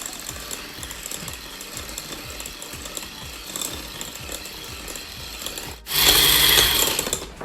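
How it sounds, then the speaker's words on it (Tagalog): Batter for mini donut balls, with vanilla sugar among the ingredients, is mixed with a steady, buzzing mechanical whir and rhythmic pulsing that suddenly swells louder and brighter near the end. "So mix lang natin until incorporated ng ating ingredients."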